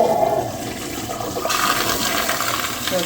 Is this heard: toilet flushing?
yes